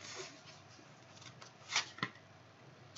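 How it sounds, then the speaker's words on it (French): A tarot card drawn from the deck during a reading, heard as a few faint papery slides and soft snaps, with two sharper flicks near the end against quiet room tone. "Je vais sortir une carte."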